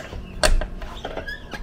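A Jeep Cherokee XJ Limited door being opened: a sharp latch clunk followed by a few lighter mechanical clicks and rattles, close and moderately loud.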